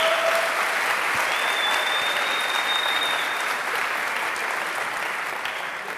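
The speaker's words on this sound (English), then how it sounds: "So I'm expecting you to give the biggest applause to Sonya before and after" Sustained applause from a conference audience welcoming a speaker to the final talk, a dense steady wash of clapping that holds loud throughout and eases slightly toward the end.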